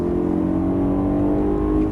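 A BMW M3 accelerating on a driving course at Fontenay-le-Comte, its engine a steady, loud, close drone of harmonic tones that climbs slightly in pitch across the two seconds, with no talk over it.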